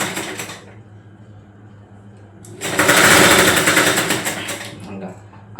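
Sewing machine stitching piping slowly at home, a rapid mechanical chatter that starts briefly, pauses under a voice, then runs loud and steady for a couple of seconds before stopping.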